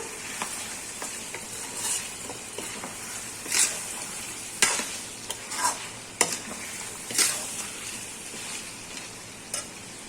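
Chili powder stirred into biryani masala in a pan, with a steady sizzle under repeated spoon scrapes and clinks spaced a second or two apart.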